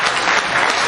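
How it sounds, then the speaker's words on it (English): A brief burst of audience applause during a podcast show, loud and dense, lasting about a second. "Y'all give a round of applause for that"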